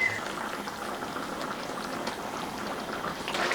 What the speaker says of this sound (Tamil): இப்போ வந்து நல்லா கொதிக்கிட்டுங்க